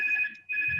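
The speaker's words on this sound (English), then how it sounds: "Apologies for my phone ringing in the background." Phone ringtone sounding in the background at modest level: two steady tonal lines, briefly dipping, then resuming, with a low rumble near the end.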